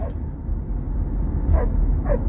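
A dog gives a couple of short, fairly close yips or barks over a low background rumble.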